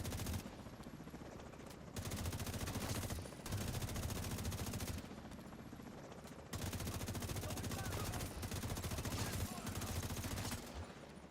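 Video game gunfire rattles in long, loud automatic bursts with brief pauses between them, close and continuous.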